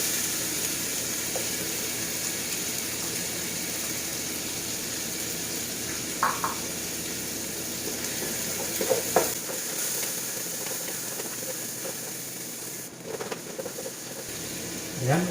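Garlic and ginger sautéing in a pan give a steady, soft sizzle throughout, with a few brief stirring clinks and scrapes scattered over it.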